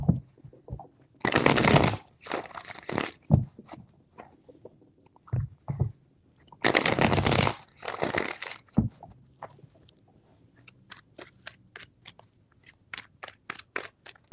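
A deck of tarot cards riffled in two long, loud bursts close up, separated and followed by scattered soft taps, flicks and card snaps, with no speech.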